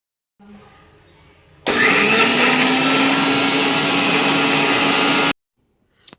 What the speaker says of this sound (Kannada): ಸ್ವಲ್ಪ ನೀರನ್ನು ಸೇರಿಸಿ ಇದನ್ನು ಗ್ರೈಂಡ್ ಮಾಡ್ಕೊಂಬರೋಣ ಬನ್ನಿ